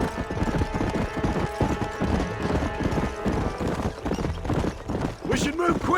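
Galloping horse hooves from the video game Red Dead Redemption pound out a quick, rhythmic clip-clop close by, with character voices talking over the hoofbeats and a brief whinny near the end.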